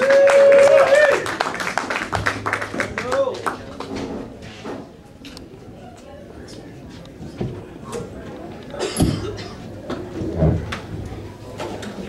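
A small open mic audience at a brew house gallery claps for a performer, scattered nearby hand claps with some clatter and knocks as the applause thins out over several seconds.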